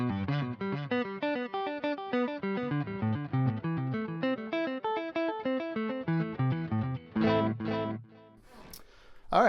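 Electric guitar through the delay section of a Boss ME-90 multi-effects unit, playing a steady run of picked notes with repeating echoes trailing each one, ending in a louder strum and a brief noisy scrape.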